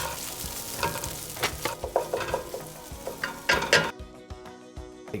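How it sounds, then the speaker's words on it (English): Drained rice toasting in butter with shallots for risotto, a sizzle under busy stirring with repeated spoon scrapes and clinks against the pan, cut off near the end. "take the rice drained and put it in some butter with some shallots"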